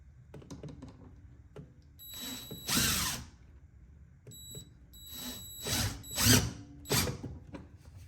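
A power drill drives the last screw of a Bayson R OEM style front lip on a Honda S2000. It gives several short, loud whirring bursts close by, with brief clicks and pauses between them.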